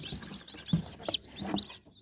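Newly hatched chicks crowd a hatcher, giving a few thin high peeps and soft chirps spread unevenly over a quiet background, close but fairly faint.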